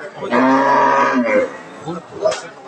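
A dairy cow gives a long, loud moo at the Kaharol cattle market in Dinajpur, followed by softer lowing and faint background noise.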